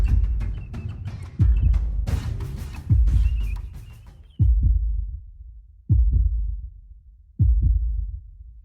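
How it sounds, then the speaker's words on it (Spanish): A deep, booming heartbeat sound effect of a dying beast thumps in heavy, evenly spaced single beats that slow and fade, with some scattered noise over the first beats. "Con la cuarta, Eric sintió el latido final de la bestia."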